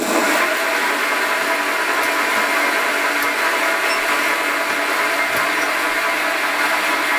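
A lathe starting up and turning a caprolon workpiece, with a continuous loud motor whine and mechanical hum running steadily throughout and no speech.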